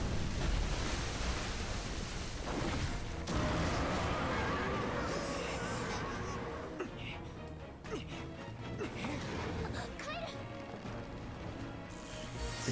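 Rushing water and crashing waves during a fight in the water in Monster Hunter Stories 2, a loud, dense surf wash that eases later and gets choppier, with a voice talking over it.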